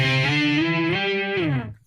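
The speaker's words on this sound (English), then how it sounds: "on the final time that you play C, you're going to kick on your distortion and go into the solo" An electric guitar played through a distortion effect rings out loud and close as a thick, sustained chord with a bending pitch before it cuts off near the end.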